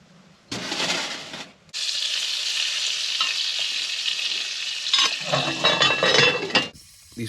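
Pork tenderloin sizzling in a pan at a snowy winter campsite during a blizzard, steady close frying hiss that starts, breaks briefly, then runs on with a few clinks and stirring scrapes.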